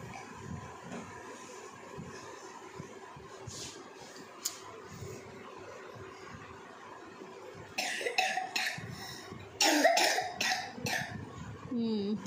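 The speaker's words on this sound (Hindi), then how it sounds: "आपको भी खांसी आ रही है बेटा" A child coughs indoors at home, several sharp coughs clustered toward the end over a quiet room, with people speaking nearby.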